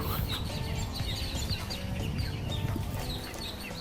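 A flock of chickens clucks and squawks busily while being fed, a dense, close chorus of overlapping calls that runs without pause and with no talk.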